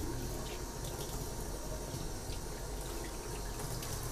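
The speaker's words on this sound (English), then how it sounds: "First thing we do, empty out the water. So I just tilt it." Water pouring out of a tilted aquarium tank in a bathroom, a continuous rushing splash that holds steady throughout, close and fairly loud.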